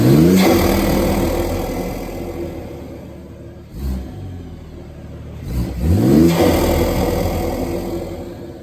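BMW X3 M40i SUV engine fitted with an RK Tunes front-mount intake starts with a loud rumbling roar, then settles and is blipped twice in quick revs, each a swelling burst over a steady idle, recorded close by.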